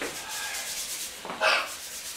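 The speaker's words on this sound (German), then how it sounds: "das Gesicht reiben" Hands rubbing the face during a qigong exercise, a soft close swishing friction that swells briefly near the end, heard alone with no talking.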